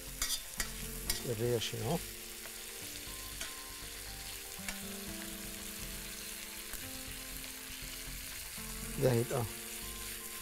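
Lamb ribs frying with onion and garlic in a pan, a steady close sizzle with stirring scrapes near the start and end, while someone talks briefly.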